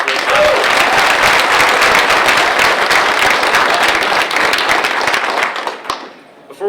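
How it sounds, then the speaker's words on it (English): Audience applause for drag racers at a PDRA press conference at PRI, a loud, dense burst of clapping that holds steady for several seconds before quickly tapering off. "Round of applause for these 5."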